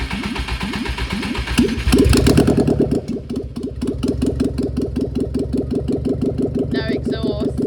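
A VW Kombi engine cranks with a rapid starter whir after a gearbox rebuild, catches with a louder burst, then settles into a steady, chugging idle close by.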